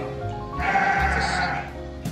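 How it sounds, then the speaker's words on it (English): A single sheep bleats loudly in a drawn-out wavering cry over faint background noise, followed by a short rustle. "That one's a sheep."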